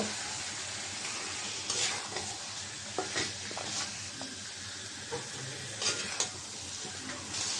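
Chicken pieces sizzle loudly in a pan of fried spice paste made with chilli, chilli powder, turmeric, coriander powder and salt, a steady close hiss broken by several scraping stirs.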